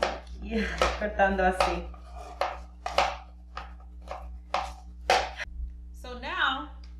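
A knife minces garlic on a cutting board in quick, irregular taps and chops, close and crisp, while a person talks over it throughout.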